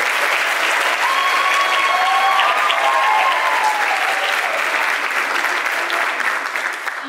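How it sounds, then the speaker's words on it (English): Sustained applause from a concert audience at a spring choral concert, a dense, even wash of clapping that holds at full strength for about seven seconds and eases slightly toward the end. "another round of applause"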